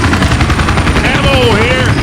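Syphon Filter weapon sounds play in Left 4 Dead 2: loud, dense rapid gunfire runs nonstop through the whole moment, with a whistling, whining tone sliding over the top partway through.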